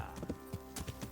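Quick rhythmic hoofbeats clip-clop at a trot in the video game Kingdom Come: Deliverance, fairly faint over a faint steady background hum.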